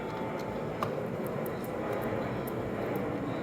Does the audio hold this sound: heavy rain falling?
no